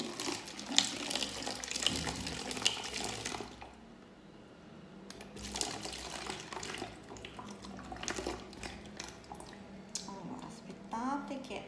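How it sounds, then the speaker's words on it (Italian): Demineralized water pours through a funnel into a bottle, a steady running trickle under ongoing talk, with a quieter stretch midway and small drips and gurgles near the end. "dobbiamo mettere quindi all'interno di questa bottiglia un litro d'acqua demineralizzata e cominciamo aiutandoci con un imbuto"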